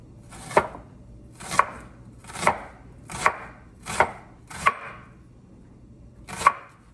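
A knife slicing a red onion into thin slices on a cutting board, seven crisp, evenly spaced chops close by, with quiet pauses between and no talking.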